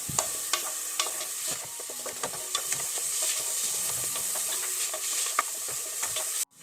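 Onions frying in oil inside a pressure cooker for an egg curry, stirred with repeated scraping strokes and light clicks over a constant bright sizzle that cuts off abruptly at the end.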